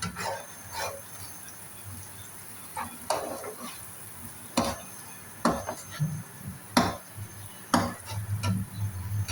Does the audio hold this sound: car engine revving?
no